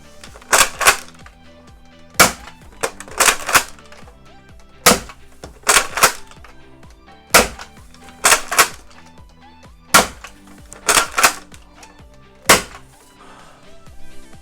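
An upgraded Nerf Retaliator blaster with a spring upgrade and the lock removed fires repeatedly, close and loud. Sharp, snappy shots come singly and in quick pairs or triples, each with priming clacks, and there are short pauses between volleys.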